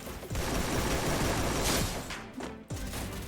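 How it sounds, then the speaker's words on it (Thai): Rapid gunfire bursts in the Free Fire battle-royale game, loud and dense, with machine-gun rattles and heavy shots continuing throughout and a brief sharp crack near the end. "ใครมันยิงหลังเราวะเมื่อกี้"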